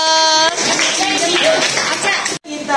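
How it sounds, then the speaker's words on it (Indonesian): A short burst of group applause for a team in a classroom quiz game, loud and close, rising after a spoken line and ending abruptly, with a voice over the start. "Tepuk tangan untuk kelompok 2."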